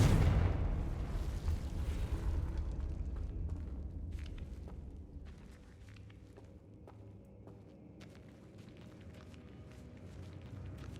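Blast from the Confringo explosion spell in Hogwarts Legacy, a loud booming burst at the start that fades into a rumbling tail with scattered faint clicks and footsteps afterward, no speech.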